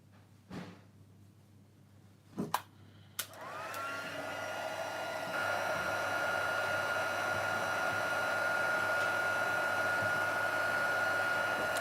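A heat embossing tool blows hot air over a stamped baby greeting card. A few sharp clicks come first, then a loud, steady whooshing hum runs continuously for about nine seconds.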